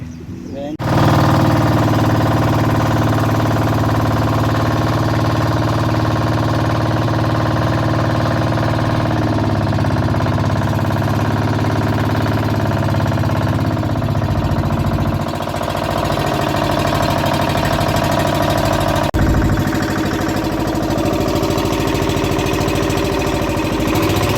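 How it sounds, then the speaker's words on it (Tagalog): A newly built boat's engine runs through its break-in period, a loud, steady mechanical drone that continues without pause for the whole stretch. "Binibreak in nga pala namin dito mga kabotride yung makina. Kasi nga bagong lusog pa lang itong bangka."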